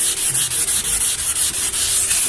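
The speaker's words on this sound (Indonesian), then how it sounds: "Kita basahi dulu untuk permukaannya, kemudian langsung kita amplas." Sandpaper rubs back and forth over a wet motorcycle body surface in steady, rhythmic strokes, a loud close scratchy swish repeating about every quarter second.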